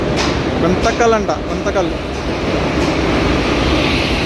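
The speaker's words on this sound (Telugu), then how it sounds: "మన బండి వచ్చేస్తుంది 28542 వ్యాగ్ 7 లోకోతో వస్తుందండి" A passenger train hauled by a WAG-7 locomotive rolls into a busy station platform with a broad, steady rumble, while someone talks close by over the noise.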